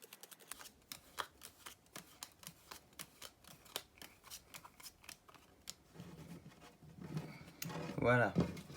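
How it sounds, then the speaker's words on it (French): Playing cards are laid down one after another into two columns, a steady series of quiet crisp taps and slides, with soft rustling and a brief murmur near the end. "Je vais mettre les cartes dans deux colonnes différentes"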